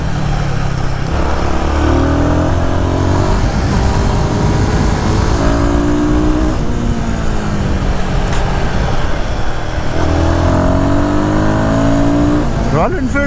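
A Royal Enfield Guerrilla 450 motorcycle pulls hard in third gear, its engine note climbing in steady rising sweeps that repeat several times, loud and continuous with wind and road noise beneath the rider's talk.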